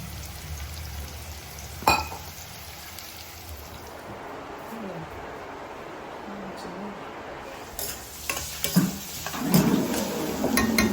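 Steady crackling sizzle of goat liver frying in a pan, with a few utensil clinks and scrapes growing busier toward the end.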